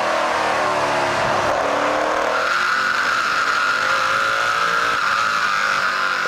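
NASCAR Pinty's Series race cars roar along the track at the 2017 CRS Express 300, engines whining and droning loudly and steadily with a rising pitch as the pack passes close by, without talk.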